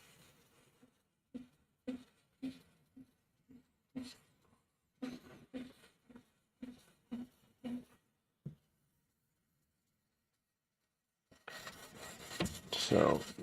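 Knife edge worked on a 400 grit whetstone: a run of short rhythmic scraping strokes, quiet and close, then a pause and a louder rustling noise at the end.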